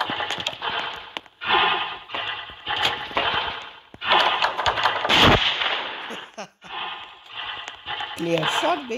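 Sharp bursts of gunfire from the Roblox game Piggy crack in repeated clusters, some rapid like automatic fire, mixed with other game sounds and a player talking over them.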